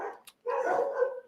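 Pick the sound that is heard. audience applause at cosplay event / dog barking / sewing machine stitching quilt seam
dog barking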